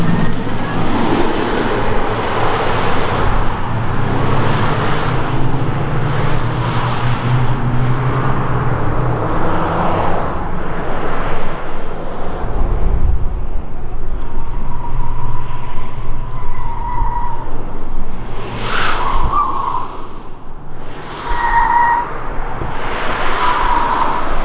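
Hyundai N car driving on a track, with a loud, continuous engine drone and road rumble that rises and falls over about 25 seconds while people talk briefly over it.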